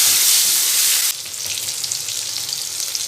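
Panch phoron spices and one dried red chili frying in hot oil, a loud, dense crackle that softens abruptly after a second into a steadier close sizzle with small pops.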